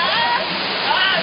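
Nalagalas Falls pouring steadily, a loud, dense broadband rush of falling water that holds constant and close throughout with no pauses.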